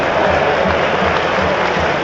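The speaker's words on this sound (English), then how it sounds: "That's the cheer you can hear for the 295 who made their way round the M25 to come to Roots Hall." A large football crowd at Roots Hall, Southend United's ground, cheers and applauds in a steady, dense roar that holds evenly throughout, with no single voice standing out.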